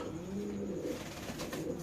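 Soft, low pigeon coos murmur over a steady background hum at a pigeon farm, faint and continuous for a couple of seconds.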